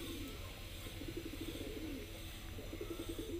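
A high flyer pigeon of the Girebaaz kind coos in a steady, close, low rolling run of repeated coos over soft background noise.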